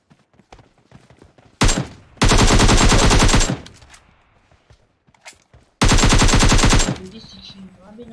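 In the PUBG Mobile video game, two loud, sustained bursts of automatic gunfire are heard, each lasting one to two seconds, with quieter stretches of footsteps and faint game sounds between them.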